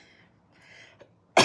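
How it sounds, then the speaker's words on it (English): A single sharp, loud cough bursts out near the end of a short, otherwise quiet stretch, close by. "I keep coughing"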